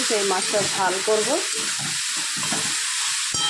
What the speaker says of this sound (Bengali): সবজিটা এখন একটু ভাজা ভাজা করে নেবো